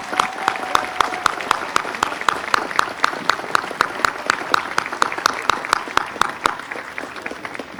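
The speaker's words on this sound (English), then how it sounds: "let's give them the applause worthy of that vision" A graduation audience responds with clapping that falls into a steady, rhythmic beat, sharp and evenly spaced, several claps per second for the whole stretch over a low background murmur.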